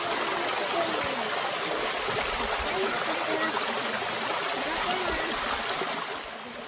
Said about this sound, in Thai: น้ำตกอยู่ตรงนู้น